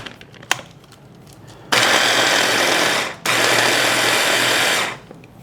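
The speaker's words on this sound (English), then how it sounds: "So my little trusty handheld food processor." A handheld food processor runs in two loud bursts of steady motor whir, about a second and a half then nearly two seconds, chopping ingredients for Greek meatballs after a few small knocks and a brief pause between pulses.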